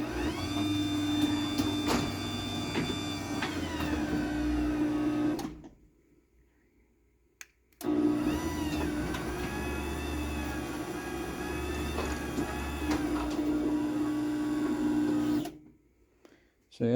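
Chamberlain HD900D garage door opener driving a mini door: a loud steady motor drone with whirring tones and light rattling, running about five seconds, stopping briefly, then running again for about eight seconds before cutting off.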